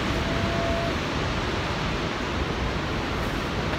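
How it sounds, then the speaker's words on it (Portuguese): A constant, loud wash of white noise rises from the great cascade at Niagara Falls, thundering water holding level from start to end without any talk. "Aqui na Niagara Falls."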